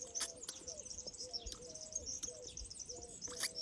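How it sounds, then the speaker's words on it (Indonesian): Birds chirp and tweet repeatedly in an outdoor strawberry garden at the end of the harvest, sharp calls over a faint steady background, with a lower cooing tone mixed in. "Suara burung."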